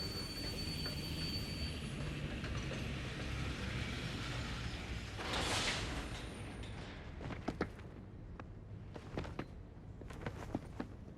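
A train car in the video game Rain Code rolls along with a steady low rumble and a hiss of wheels, followed by a brief whooshing swell. Sharp clicks and footstep-like knocks follow.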